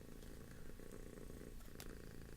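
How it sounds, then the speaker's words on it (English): A cat purring, very quiet and close, a soft continuous rumbling purr with a few faint clicks, no one speaking. "Listen to Xerxes purring"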